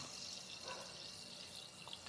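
Carbonated Topo Chico mineral water fizzes with a faint, continuous high hiss of popping bubbles and a few soft crackles, close and quiet.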